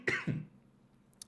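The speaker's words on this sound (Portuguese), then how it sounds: "tá uma luta, tosse hoje" A man gives a single short, close cough with a throaty rasp and a quick second burst, followed by quiet room tone and a faint click.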